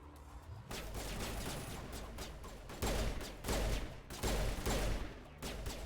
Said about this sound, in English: Let's pull out the pistol.